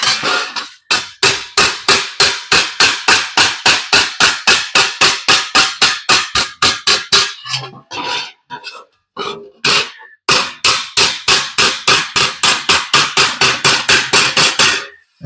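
Rapid, evenly spaced metallic hammer strikes from a planishing hammer shaping sheet metal trim for a 1941 Ford Supercab, close and loud in long steady bursts with a brief pause and irregular knocks in the middle.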